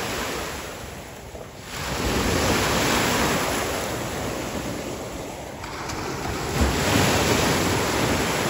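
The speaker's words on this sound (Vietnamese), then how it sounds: "Bữa nay nó có sóng bờ nè" Waves break on a Vietnamese shore with a continuous surf roar and wind buffeting the microphone, a dip then swelling surges, close and loud with no talk.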